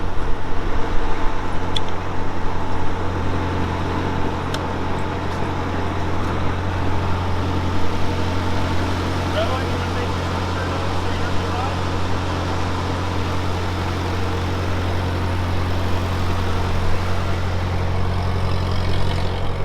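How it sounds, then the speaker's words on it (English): An old tractor engine idling smoothly and steadily, a constant low throbbing hum with a faint mechanical whine, close by and unbroken throughout. "This engine's so quiet. Sounds really good."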